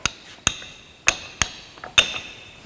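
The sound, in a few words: hammer striking a transmission teardown tool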